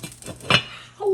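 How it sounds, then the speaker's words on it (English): A lid set back onto a pot of chili on an offset smoker, a few light metallic clinks and a sharper clatter close by, with a voice starting just at the end. "Let me put this lid back on."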